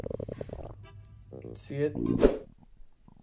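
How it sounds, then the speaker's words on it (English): A hungry stomach growls in low, gurgling rumbles close to the mic, swelling into a louder churn near the end while a person talks over it. "Can't you hear my stomach growling?"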